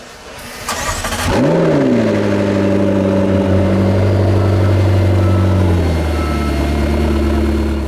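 A 2015 McLaren 650S engine revs up sharply, then holds a loud, steady rumbling drone as the car creeps into a detailing wash bay in London, close and alone without talk.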